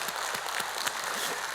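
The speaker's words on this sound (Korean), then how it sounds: "우리 서로 격려의 박수 한번 치도록 하겠습니다" A church congregation at a Korean Wednesday worship service claps together, a steady dense patter of many hands at moderate distance, alone without voices.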